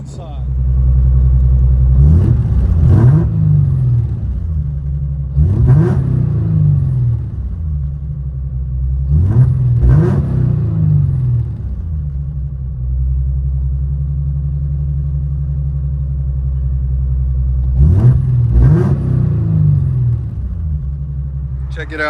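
A 1994 Nissan 300ZX with a 3.0-liter engine and its muffler deleted, heard from inside the cabin: a loud, steady low rumble with four sharp revving surges at regular intervals, and talk over parts of it.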